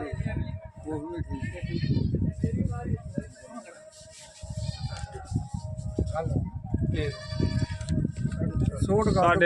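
Several goats bleat repeatedly, close and loud, amid a crowd of people talking over one another at an outdoor goat market.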